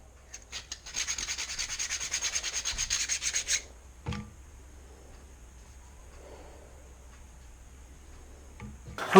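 A wooden swimbait body is sanded with a small circular sanding board, giving close, rhythmic rubbing strokes for a few seconds, then a sharp knock followed by quiet.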